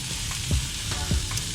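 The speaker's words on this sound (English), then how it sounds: "Now we're just gonna throw it on there, get that nice sear on it." New York strip and top sirloin steaks searing on a hot grill, a steady broadband sizzle with a few low thumps as the meat is set down, close and fairly loud with no talk.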